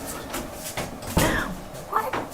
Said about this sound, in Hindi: अंकल प्लीज दरवाजा बंद कर दें।